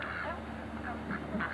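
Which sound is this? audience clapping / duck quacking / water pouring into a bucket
duck quacking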